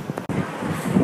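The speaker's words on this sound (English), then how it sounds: "You guys, it's so windy out here." Strong outdoor wind near the Hollywood sign in Los Angeles, a steady broadband rush buffeting the microphone, with a brief dropout and gusts building louder toward the end.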